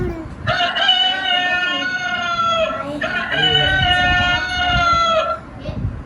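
A rooster crows twice in a row, loud and close, each a long strained cock-a-doodle-doo with rich harmonics, with a bit of background rustle and faint voices around it.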